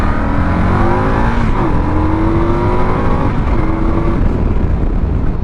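An Indian Scout motorcycle with the Speed Plus engine roars along at steady speed, with a loud continuous engine drone and wind rumble and a couple of gear-change dips in pitch.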